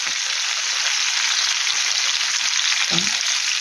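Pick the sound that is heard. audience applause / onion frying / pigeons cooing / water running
onion frying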